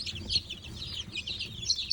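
Four three-week-old chicks peep and cheep continuously up close, a busy chorus of high, rapid calls with a faint low rustle beneath.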